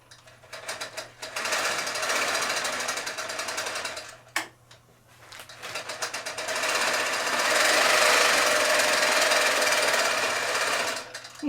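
A longarm quilting machine stitches a quilt binding in two loud, steady bursts of rapid mechanical rattling, separated by a short pause and a sharp click.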